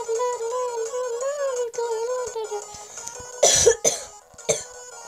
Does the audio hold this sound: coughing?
yes